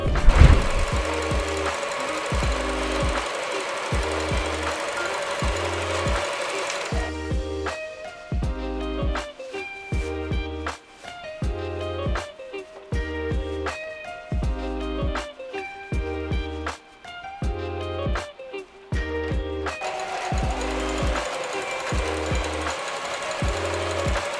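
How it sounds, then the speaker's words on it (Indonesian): A sewing machine stitches the pocket of a duffle bag, its steady rapid mechanical thumping running almost continuously, with a short break in rhythm midway and a loud close motor drone throughout. "Mari kita menjahit bagian kantong ini."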